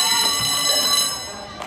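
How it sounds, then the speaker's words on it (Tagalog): A basketball game buzzer sounds in an indoor league court, a steady sustained electronic tone holding for well over a second at moderate loudness over crowd and commentary noise. "Naalit ang buzzer."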